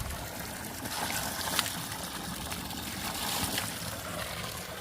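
Water from a mountain spring pours steadily into a tank, a continuous soft rushing and trickling at moderate distance, with faint broadband outdoor background and no talk.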